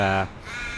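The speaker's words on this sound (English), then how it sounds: "the bird's kind of noisy there" A single loud crow caw, harsh and nasal, followed by a brief quieter stretch of outdoor background.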